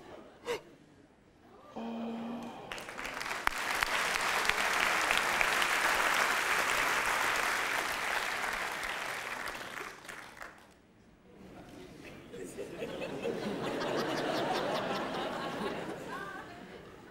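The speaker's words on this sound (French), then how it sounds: "quand tu vas applaudir" A comedy magic show audience bursts into loud applause mixed with cheers and chatter, fades briefly into a near lull, then surges again in a second wave of clapping.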